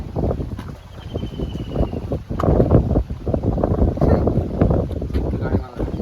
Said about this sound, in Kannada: ಸೈಕ್ ಗಾಳಿ ಬರ್ತಾ ಇದೆ ನೋಡಿ ಬಟ್ಟೆಲ್ಲ ಯಾವ ಥರ ಆಗ್ತದೆ, ಫುಲ್ ಗಾಳಿ